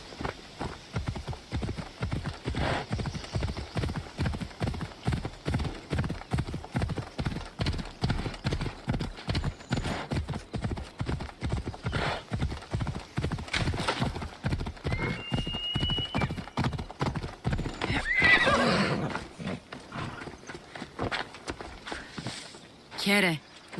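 A horse's hooves clip-clop in a steady, fast rhythm through most of the scene in Assassin's Creed Odyssey, loud and close, with a brief whinny near the end and game voices speaking over it.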